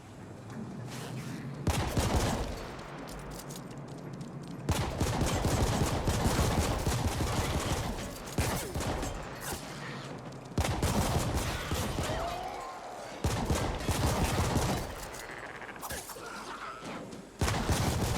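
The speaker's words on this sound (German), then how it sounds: "Hier wird nicht gefragt, hier wird geschossen." Gunfire in The Ascent, a top-down shooter, comes as repeated loud bursts of rapid shots separated by short pauses across eighteen seconds, close and heavy.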